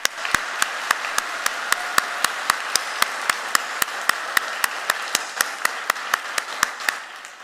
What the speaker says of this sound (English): I think we need a round of applause as we are all here today.